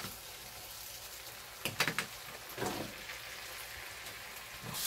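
Green onion and onion hit a pan of meat for palace-style tteokbokki, a soft steady sizzle with a few brief louder crackles and stirring bursts, close and fairly quiet, with no talking.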